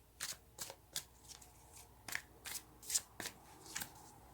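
Tarot cards are shuffled in about ten quick, crisp riffling bursts with short pauses between them, close and moderately loud, with no talking.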